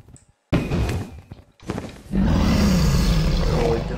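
Ender Dragon from Minecraft lets out a loud, rumbling roar that swells and sustains after a couple of heavy thuds and short noisy bursts, close and dominant.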